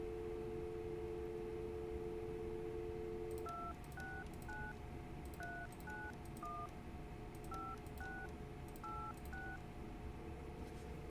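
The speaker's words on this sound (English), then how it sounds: "remember what an old school phone sounds like" Tone dialing on an old-style telephone in the video game Kentucky Route Zero: a steady tone, then a series of short beeping key tones in uneven groups over a noisy background hum.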